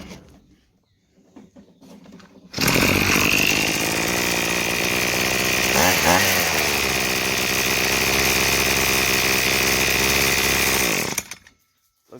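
A Hitachi CG22EAD string trimmer's small two-stroke engine catches after a pull start and runs loud and close at a steady high pitch for about eight seconds, dipping briefly midway, then cuts off.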